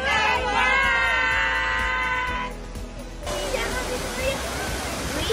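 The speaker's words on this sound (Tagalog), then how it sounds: "Next up, nandito naman tayo ngayon sa sikat na Golden Waterfalls." Golden Waterfall at Shifen Old Street in Taiwan roars as a steady broadband wash of falling water, loud and close, with crowd voices and shouting children mixed in over it throughout.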